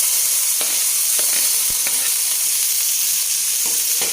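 Finely chopped onions frying in a hot pan for Andhra-style dal, giving a loud, continuous close-up sizzle with a few light clicks of a spatula and no voices.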